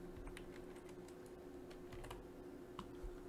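Quiet, rapid typing on a computer keyboard, with uneven key clicks scattered across a few seconds against a faint steady background hum.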